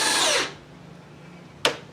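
A power drill drives a screw into a wooden post while building a silkscreen shop, one loud whirring burst lasting about half a second and then stopping, followed by quiet and a brief sharp knock.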